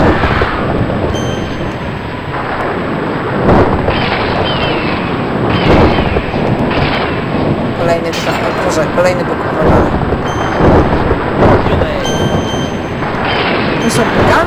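Thunder from a storm titan in the Hercules action video game, heavy booming rumbles and cracks rolling through a dense, loud game soundtrack across the whole stretch.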